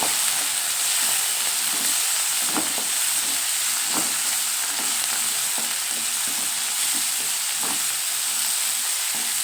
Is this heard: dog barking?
no